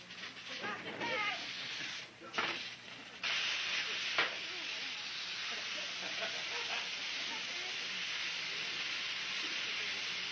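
Chicken fully submerged in hot fat pressure-fries with a continuous broad hiss, faint and steady after a few brief bursts of talk at the start.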